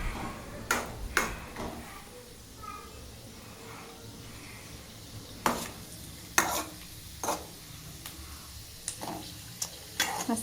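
Kaju korma ingredients fry and sizzle in a pan with a steady low hiss, punctuated by sharp metallic clinks and scrapes of a spoon stirring, close by.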